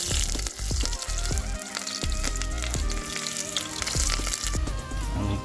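Kidney frying in hot cooking oil in a pot for a Jamaican-style breakfast, a loud continuous sizzle and crackle with spitting pops throughout, close up and alone with no talk.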